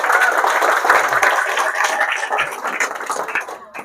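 An audience at a business marketing seminar breaks into steady, dense applause that fills the room and tapers off near the end.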